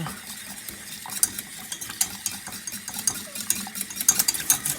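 A whisk beats milk into a thickening white sauce for croque sandwiches, each stroke a quick, close metallic scrape against the pan, the tapping irregular and growing more frequent.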